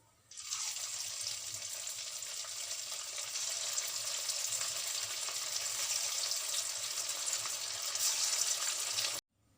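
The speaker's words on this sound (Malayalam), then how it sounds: "ഇതുപോലെ തന്നെ നമുക്ക് നമ്മുടെ ബാക്കിയുള്ള പീസും ഫ്രൈ ആക്കി എടുക്കാം" Chicken 65 pieces frying in hot oil give a steady, dense sizzle that starts abruptly, holds loud and even for about nine seconds, then cuts off.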